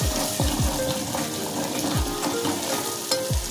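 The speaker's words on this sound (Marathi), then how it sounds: "मालवणी मसाला घेतला 1 चमचा तेलामध्ये, चांगला आपण मिक्स करून घेऊया" Malvani masala fries in oil in a pan while a spoon stirs it, giving a close, continuous sizzle broken by several scraping strokes and light clinks.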